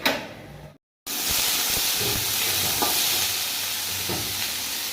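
Aloo posto, potatoes in poppy seed paste, sizzling and frying steadily in a pan, a continuous close hiss broken by a brief silent cut near the start, with faint stirring scrapes.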